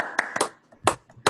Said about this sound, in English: Just everybody give an applause.